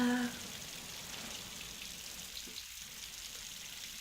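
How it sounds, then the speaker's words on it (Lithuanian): Rain falls outdoors as a soft, continuous wash of hiss at low level, with a brief tonal sound at the very start. "Nes kaip matote, lyja."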